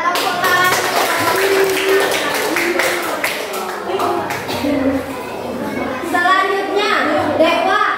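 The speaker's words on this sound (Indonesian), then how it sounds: "iya tepuk tangan." Children clap together in a classroom during a lesson, a steady patter of hands layered with a teacher's voice and children's speech throughout.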